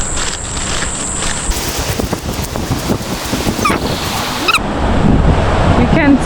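Waves breaking on a beach beside a hostel, a continuous washing roar mixed with wind buffeting the microphone and growing louder near the end.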